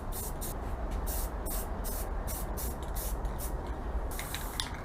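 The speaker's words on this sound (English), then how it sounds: "finally there's some paint in the air" A rattle can sprays paint onto a car, steady broadband hiss in short pulses over a continuous rumbling background, close and moderately loud with no voices.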